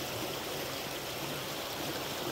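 River water rushing steadily around someone standing midstream, a loud, dense, unbroken wash of flowing water with no voices.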